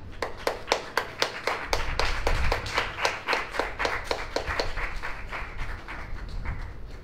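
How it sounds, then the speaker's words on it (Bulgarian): A small audience at a songwriting camp event claps in a brisk, rhythmic run of sharp hand claps, nearby and fairly loud, easing slightly toward the end with no talking over it. "искам наистина ръкопляскания за двете общини сега"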